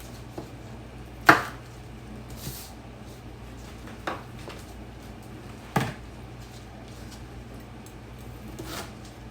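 A kitchen knife slicing a pepper for a salad on a cutting board, several separate crisp cuts spaced a second or two apart, close and clear over a low steady background hum.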